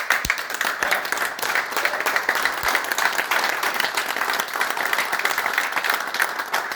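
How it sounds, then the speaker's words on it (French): Audience at a sports awards evening applauding the helpers, a sustained, even burst of many hands clapping with a few sharper individual claps standing out. "je vais vous demander de les applaudir"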